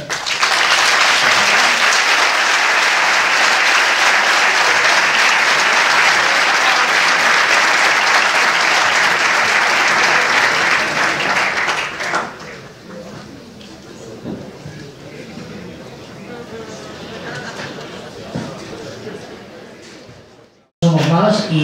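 Loud, dense applause from a conference audience at a flat-earth event in Barcelona, sustained for about twelve seconds before dropping to a quieter murmur of scattered clapping and crowd noise, then a brief final burst.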